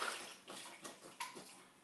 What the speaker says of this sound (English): Some chicken broth. We've got whatever's left in here. Let's pour that in.